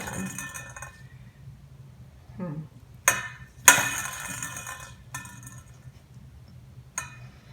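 A marble in a pan, bumped so it rolls: a handful of sharp, bright clinks and taps spaced irregularly over a quiet background, one louder knock near the middle, no speech.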